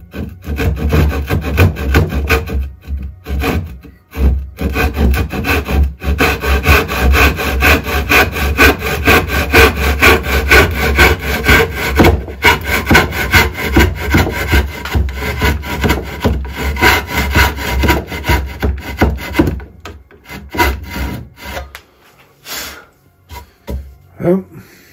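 A hand saw rasps through wood in a miter box in fast, even back-and-forth strokes, loud and close, pausing briefly a few times before trailing off.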